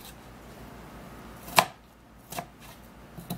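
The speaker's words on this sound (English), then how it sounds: "So we're gonna cut this in cubes." Half a cucumber is cut into cubes on a board, with one sharp, loud knife chop, then a softer second stroke and a faint third, each separated by quiet pauses.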